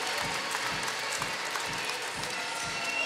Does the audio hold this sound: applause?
yes